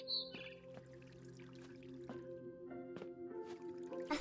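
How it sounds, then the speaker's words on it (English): A barn swallow chirps outside a window in What Remains of Edith Finch, giving faint, scattered short calls over quiet game ambience with soft dripping and squishy clicks. "Then I heard chirping outside my window."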